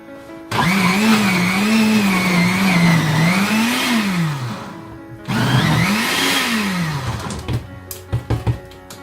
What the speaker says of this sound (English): So I'm just gonna use the this sign to blend it after I switched it on though.